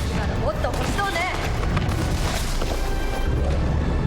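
A railgun in the Resident Evil 3 remake booms with heavy, rumbling blasts amid a loud, dense game soundscape, with chatter layered over the noise.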